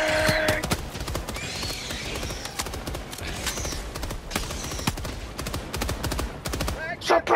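Suppressive gunfire in the video game Helldivers 2: rapid, dense bursts of automatic weapon fire crackling continuously at close range, with game effects and a shouting voice briefly at the end.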